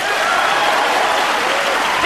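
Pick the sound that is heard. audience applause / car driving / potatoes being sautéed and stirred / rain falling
audience applause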